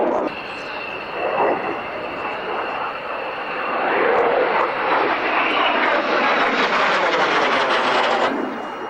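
French aerobatic team jets at an airshow, a loud, sustained jet roar that swells as the aircraft pass, with a commentator talking over it throughout.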